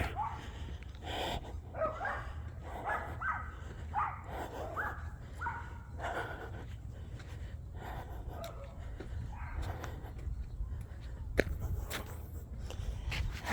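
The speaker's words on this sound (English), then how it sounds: "That's a different doggy choir." Several dogs bark in a ragged chorus from across the street, steady bursts of yaps and woofs at moderate distance over low outdoor rumble on a neighborhood walk.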